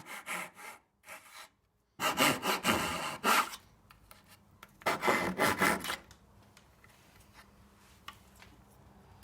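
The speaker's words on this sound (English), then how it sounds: "Then I could remove the waste with a couple of saw cuts." A hand saw cuts wood to remove waste for a butter knife gift set, with several bursts of back-and-forth rasping strokes separated by pauses, close and fairly loud, with no talking.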